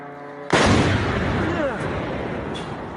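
A massive explosion bursts just overhead in war footage, striking with a sudden, loud blast that rolls into a long, rumbling decay, and a faint voice comes through faintly underneath.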